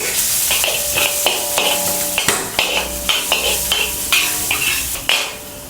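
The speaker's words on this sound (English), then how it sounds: "Add all the aromatic inside, garlic, ginger, saute it until aromatic." Garlic and ginger sauté in oil in a wok, a bright sizzle broken by repeated metallic clanks and scrapes of a spatula against the pan, close and rhythmic, no voices.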